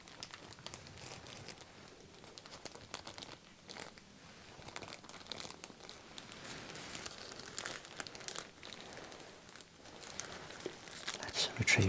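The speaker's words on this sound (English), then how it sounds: "Crinkly packaging once more, a little bit more subtle here." Crinkly plastic packaging of clinic items is handled gently and close up, giving soft, irregular crackles and rustles throughout.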